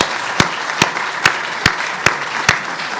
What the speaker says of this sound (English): So one more round of applause for Michelle and the panel.